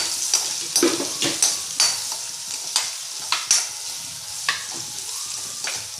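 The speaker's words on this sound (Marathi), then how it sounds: "आता हळद आणि हिंग हळद हिंग टाकून हे मिश्रण एकदा पूर्ण डवळून घेतलं पाहिजे" A spoon scrapes and taps around a pan while onion, salt, turmeric and asafoetida fry, giving irregular metallic clinks over a steady close sizzle.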